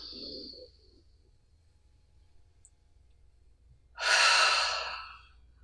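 Deep breaths during a stretching exercise, one breath fading at the start and a long, loud close exhale about four seconds later, with quiet between them.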